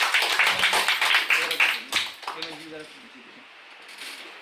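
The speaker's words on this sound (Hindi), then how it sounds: "तालियां इनके लिए एक बार जोरदार" Audience clapping at a Glo Herbal Mart boot camp in Manali, a burst of uneven claps for about two seconds that quickly thins out and fades into quiet room noise with faint talk.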